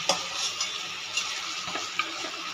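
Ridge gourd goes into a frying pan beside a few fried prawns, and a steady sizzle runs throughout, broken by light clinks of a spatula at intervals.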